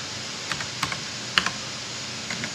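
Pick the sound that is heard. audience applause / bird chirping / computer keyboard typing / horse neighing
computer keyboard typing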